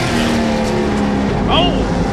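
Race cars run on a short oval track in South Boston with a loud, steady engine roar. A commentator talks over the cars.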